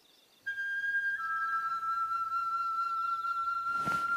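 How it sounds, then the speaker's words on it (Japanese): A sustained whistle tone from a mystery story reading sounds steadily after a quiet start, holding one clear pitch for several seconds before a brief noisy burst at the end, with no one talking. "また笛の音。"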